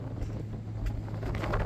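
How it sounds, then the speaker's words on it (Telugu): Strong seaside wind in Cape Town batters the microphone with a steady, dense roar and a heavy low rumble. There is no speech. "ఇక్కడైతే గాలి విపరీతంగా ఉండడం వల్ల మీరు చూడండి వేవ్స్ అటు సైడ్ నుంచి ఇటు రావాల్సిన ఇటు నుంచి అటు వెళ్తున్నాయి"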